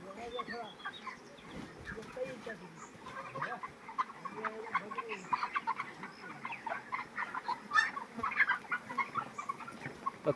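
Chickens cluck and squawk at a large poultry farm on a morning in Karjat, a dense, continuous flock chatter that grows busier toward the end, with a faint voice in the background.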